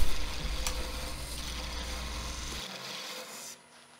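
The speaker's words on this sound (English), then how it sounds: "here I'm just creating a little tenon" A spindle gouge cuts a tenon in hardwood spinning on a lathe, producing a close rasping, scraping hiss over a low motor hum that cuts out partway, the cutting noise then fading.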